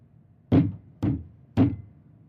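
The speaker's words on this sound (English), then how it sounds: "This time, the knocking was loud enough to rattle the door." Three loud, heavy knocks on a door, evenly spaced about half a second apart, each a deep thud with a short decay over near silence.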